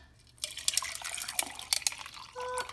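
Cold brew coffee is poured into a large container, a close splashing, trickling stream of liquid lasting a couple of seconds before tapering off.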